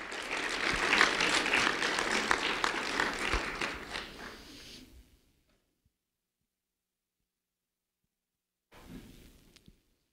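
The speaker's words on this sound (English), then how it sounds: "a round of applause for Riley Godwin" An audience claps for a second-grade student being honored at a school recognition event, a steady round of applause that fades out after about five seconds, then a brief faint burst of sound near the end.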